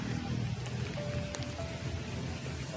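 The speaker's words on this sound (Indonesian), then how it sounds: "jadi ini cuacanya lagi hujan" Steady rain falls outdoors as a dense, even hiss of drops, close and constant, with a faint tonal hum passing through.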